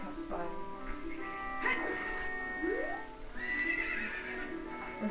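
A horse in a Zelda video game neighs loudly in a long, wavering whinny, then again with rising calls, with soft hoof clops in the background.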